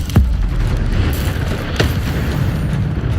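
The Incendio fire spell in Hogwarts Legacy bursts with loud, roaring whooshes of flame, two sharp onsets a second and a half apart over a continuous fiery rumble.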